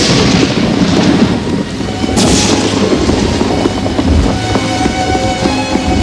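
Thunderstorm on a frightening dark night, with steady heavy rain hissing throughout and low rumbles of thunder rolling underneath, loud and continuous with no voices.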